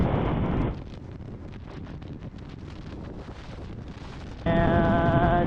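Strong wind buffets the microphone while riding through a windstorm, a loud steady roar that dips for a few seconds in the middle and then surges back with a tonal whistle.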